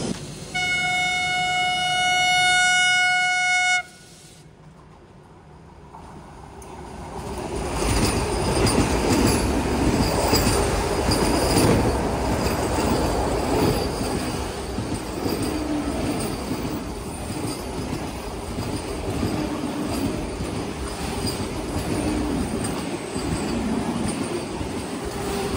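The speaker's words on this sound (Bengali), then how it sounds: "ট্রেনটা আসবে হচ্ছে এই দিক থেকে" The Falaknuma Express, a Howrah to Hyderabad train, approaches on a curved track with a horn blast, then rumbles past loudly and steadily with wheel squeal and rattling cars.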